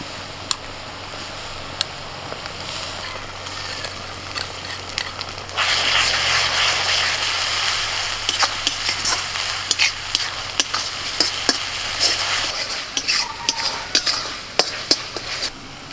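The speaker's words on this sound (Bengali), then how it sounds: "পেঁয়াজটা যখন ভাজতে ভাজতে একটু লাল লাল হয়ে আসবে তখন এর মধ্যে দিয়ে দিচ্ছি আদা রসুন বাটা" Onions fry in a pan, then ginger garlic paste goes in and the sizzle jumps louder and brighter, with spatula scrapes and taps over the hiss while preparing chicken kanti.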